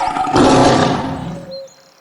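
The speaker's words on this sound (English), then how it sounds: "The tiger growls, grrr!" A tiger gives one loud, rough, close growl that swells quickly, rumbles for about a second and then fades away.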